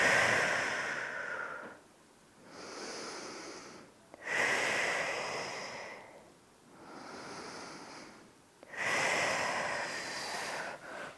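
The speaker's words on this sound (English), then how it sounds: "just take 2 or 3 nice deep breaths here" Slow, deep breaths during a Pilates stretch: three long, close, airy inhale-exhale cycles with brief pauses between them and no talking.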